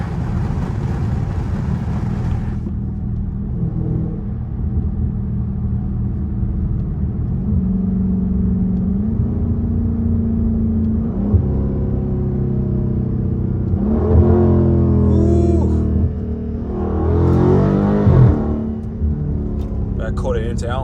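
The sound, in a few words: Dodge Charger Scat Pack engine with back quarter intake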